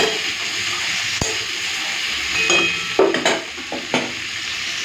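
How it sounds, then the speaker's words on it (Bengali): Water poured into a pan of deep-fried mixed vegetables, a steady sizzle with a sharper burst and spattering bursts partway through, close and fairly loud, no talk. "এখন দেবো জল"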